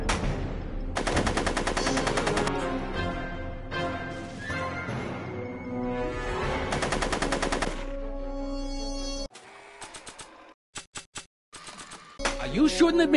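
Rapid gunfire crackles in the Back to the Future video game, with bursts of repeated shots mixed with game music and effects, then sparse isolated pops near the end.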